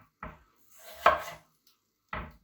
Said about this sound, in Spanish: las cortamos a la mitad y ahora de cada mitad hacemos un gajo y otro gajo